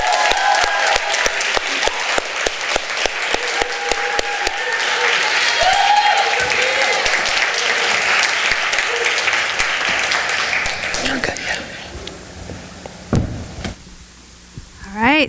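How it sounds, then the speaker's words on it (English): An audience at a worship and missions night claps warmly to welcome a speaker. Sharp, close claps give way to dense applause that fades out toward the end, and a few thumps are heard. "can we just give her a warm family applause to her?"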